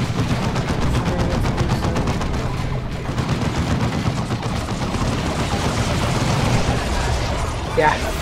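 Rapid gunfire in a firefight in the video game Warhammer 40K: Dawn of War 2, with dense overlapping bursts and crackling shots that run loud and steady through the whole stretch.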